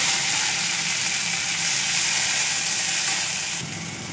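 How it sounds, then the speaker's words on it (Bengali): Onion sizzles steadily in hot oil with cumin seeds, a loud, continuous frying hiss close up that eases slightly near the end, with no voices. "জিরে ফুটে গেলে ওইখানে আমি পেঁয়াজটা দিয়ে দেবো।"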